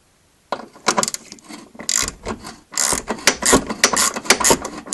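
A ratchet tightens the lower ball joint on a Renault Clio during control arm replacement, giving a close run of sharp clicking bursts with short pauses between strokes.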